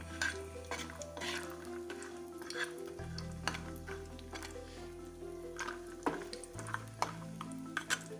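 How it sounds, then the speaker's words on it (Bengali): Potatoes tumble into hot oil that has just fried lentil dumplings (bori), then get stirred in the pan, with steady sizzling, scraping and clinks of a utensil against the metal over about eight seconds. "আলুগুলোকে দিয়ে দেব।"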